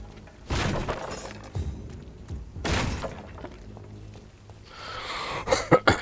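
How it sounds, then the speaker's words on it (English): Several harsh coughs in short bursts, close and fairly loud, with a brief pause between fits and a scrappier cluster of noise near the end. "I do apologise for all the coughing."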